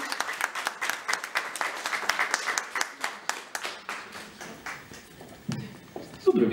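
Warm applause at a company anniversary event in Poland, a modest group clapping in uneven rhythm that slowly thins out, with a voice briefly entering near the end.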